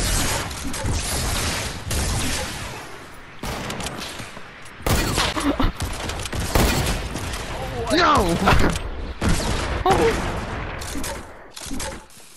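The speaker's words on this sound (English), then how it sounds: "we shoot the rockets in the air after we shoot all three and pull out our snipers" Rockets launched into the air in Fortnite Creative, a string of loud bursting blasts and crackling explosions at irregular intervals, mixed with a person talking over the action.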